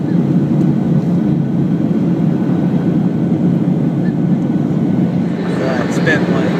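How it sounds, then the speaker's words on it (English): A steady, loud cabin drone from an airplane being boarded for a flight to South America continues without a break, with faint voices and a few light clinks near the end. "we're boarding a plane for South America"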